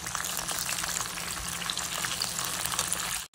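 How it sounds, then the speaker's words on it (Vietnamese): Food deep-frying in hot oil for a second fry while cooking Tết holiday dishes, a loud, steady crackling sizzle that runs unbroken and close, with no talking. "mình vớt ra mình bỏ ra rồi mình chiên, mình chiên lần hai cả nhà"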